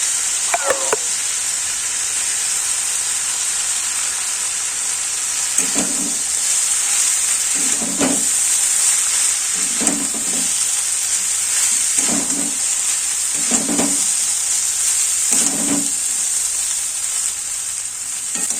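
Chow mein with soy sauce is stir-fried in a pan, a loud continuous sizzle broken by regular scraping strokes of the spatula roughly every two seconds.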